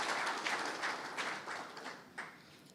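An audience at an architecture awards ceremony applauds, a soft, distant wash of clapping that swells in several waves and fades out.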